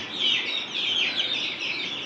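Ayam Cemani black chickens clucking in a home farm setting, a continuous close, fairly loud chorus of overlapping high clucks and chirps with no talk.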